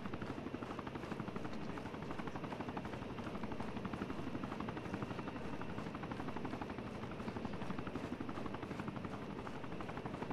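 A helicopter flies in the military game Arma 3, its rotor producing a steady, rapid rhythmic chop with engine whine, fairly faint and constant throughout with no talk.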